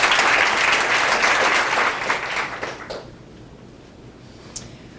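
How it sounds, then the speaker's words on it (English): Applause from a commencement ceremony crowd, dense clapping that fills the first half, then thins and fades over a few seconds, leaving a quiet room with one sharp clap near the end. "let's give them a round of applause."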